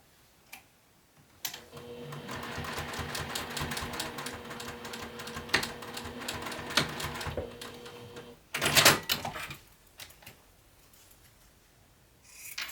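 A sewing machine runs in a steady mechanical stitching burst, sewing across the bottom of a zipper on a satchel bag. It is close and fairly loud, with a short rattle near the end and brief quieter handling sounds before and after.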